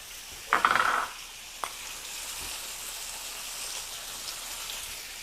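Garlic and ginger sizzling in a pan: a steady, fairly quiet frying hiss runs throughout, opened by a brief louder clatter and a single tap as the ingredients go in.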